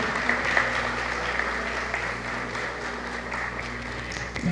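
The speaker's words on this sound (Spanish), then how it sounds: "Fuerte aplauso." Moderate applause from a conference audience at a university congress opening, steady clapping over a low background hum, heard at some distance.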